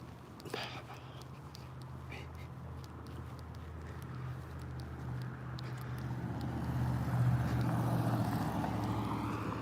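A car drives by on a road during an outdoor walk, a steady low engine rumble that grows louder toward the end amid ambient street noise and light footsteps.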